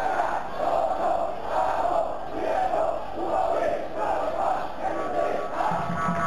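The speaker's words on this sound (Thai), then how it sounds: "เสียงเชียร์ก็กระหึ่มขึ้นมาทันทีครับ" Crowd at a Thai regional Division 2 football match roars and cheers after a goal, a sustained loud swelling chant of many voices with rhythmic surges throughout.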